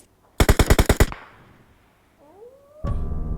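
A burst of about seven rapid, loud gunshots from PUBG, close and evenly spaced, followed by a brief quiet gap, a whining tone and another blast at the end.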